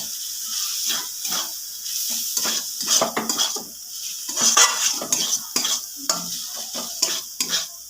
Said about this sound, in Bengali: আমি একটু 2 মিনিটের মতো ভেজে নেবো সব কিছু।